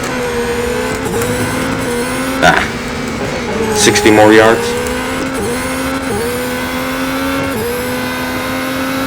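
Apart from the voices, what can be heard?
race cars passing at speed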